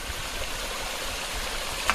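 Stream water flowing through dense forest, a steady full rushing wash that stays even and close throughout with no voices.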